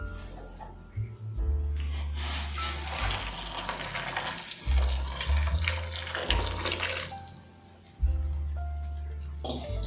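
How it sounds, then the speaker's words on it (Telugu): Hot water pours into a bowl of soya chunks, a steady splashing gush that rises and falls in intensity, with brief breaks and a low rumble underneath. "హాట్ వాటర్ కాగిపోయిందండి, అందులో పోసేసుకుందాం."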